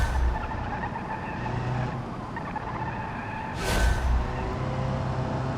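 A car in the BeamNG driving game slides through a light oversteer, its engine droning steadily with a brief loud tyre skid burst partway through, heard alone without talk.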